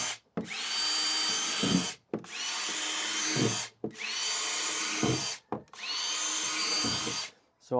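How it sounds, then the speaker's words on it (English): A power drill whirs through a plastic bin, drilling holes in its bottom in four long bursts of about one and a half seconds each, separated by short pauses, close and steady. "we're just going to drill holes in the bottom here"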